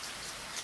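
Steady rain falls through a quiet moonlit night, a dense, even hiss of drops on surfaces holding at a constant level, with no voices.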